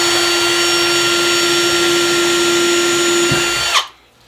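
A power drill bores a small hole up into an old wooden beam above a workbench, giving a steady, loud, close whine with a fixed pitch that runs about four seconds before stopping abruptly.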